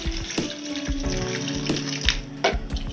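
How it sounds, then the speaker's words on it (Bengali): Water pouring from a tap into a pot of cut potatoes for a Bengali potato curry, a steady close splashing stream with some clinks of the pot, no talk. "এবার দিয়ে দেবো জল,"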